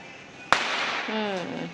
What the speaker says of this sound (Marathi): मुलं फटाके फोडता आहेत